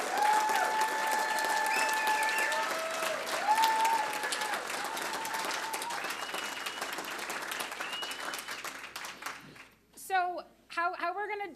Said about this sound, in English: Can we give one more round of applause to our presidential candidate, Tom Steyer?